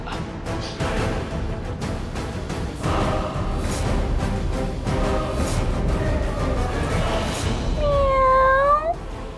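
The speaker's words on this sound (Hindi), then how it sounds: "बिल्ली की आवाज।" Scattered noisy rustling builds to a clear, drawn-out cat meow near the end, fairly loud and close.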